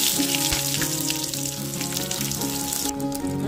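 Onion pieces frying in hot oil along with crackling tempering seeds and cumin, a dense, continuous sizzle held at steady loudness close by, over faint background music.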